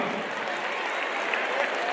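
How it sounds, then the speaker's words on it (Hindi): Loud, dense applause from a large crowd fills the whole stretch, a steady wash of clapping with no pauses. "एक बार धमाका हो जाए तालियों का।"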